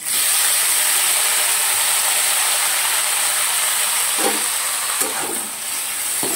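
Ginger, onion and garlic paste sizzling in a hot pan, a steady dense hiss heard close, with a few faint clinks of utensils near the end and no talk.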